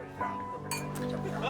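Glasses clink together in a toast, a couple of bright ringing taps heard over people talking and cheering.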